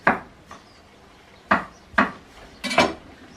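A knife slices asparagus on the angle against a cutting board for a pea and asparagus risotto, giving a handful of sharp, close knocks at uneven intervals with quiet gaps between them.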